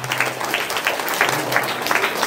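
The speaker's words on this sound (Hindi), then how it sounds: "थर्ड शमसुद्दीन अंसारी, जोरदार तालियां।" Crowd applause at a school naat recitation competition as a winner is announced, brisk overlapping clapping from many hands, loud and continuous for a couple of seconds with a faint hum underneath.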